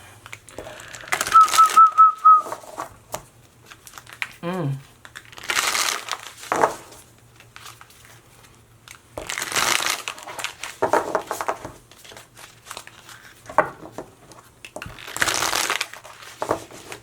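Tarot cards are shuffled in several loud, riffling bursts separated by pauses, with a brief whistle-like tone near the start; no talking.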